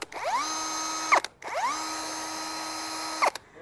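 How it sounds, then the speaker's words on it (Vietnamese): A Navara 7003 13 mm keyless-chuck power drill runs in two bursts, each spinning up with a rising whine to a steady high motor hum, then stopping with a click, heard close and alone. "Máy khoan Navara."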